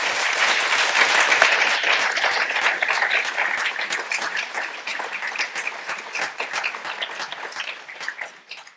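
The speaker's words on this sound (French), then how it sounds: "On l'applaudit très fort." An audience claps steadily and warmly for several seconds, a dense patter of hands that thins slightly toward the end, with no talking.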